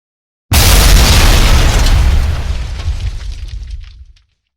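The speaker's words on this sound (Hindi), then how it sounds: "पहला जो सीन था उसके अंदर हमने ब्लास्ट क्रिएट किया था एडिट के अंदर" A single large blast explosion effect for a short war film erupts suddenly after brief silence, a loud deep roar that rumbles on and fades out over several seconds.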